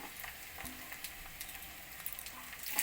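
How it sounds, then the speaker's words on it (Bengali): Mashed potato with onion and green chilli frying in a pan, a soft steady sizzle with faint spoon-stirring scrapes, close and quiet, no voices. "ম্যাশ করা আলুটাকে দিয়ে সমস্ত কিছুর সঙ্গে আবারও ভালো করে ভাজা ভাজা করে নেব"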